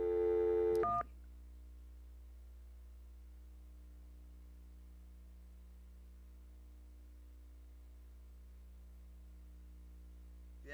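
Telephone keypad tones sound in a brief burst of beeps lasting about a second at the start, followed by a long, steady low electrical hum on the line.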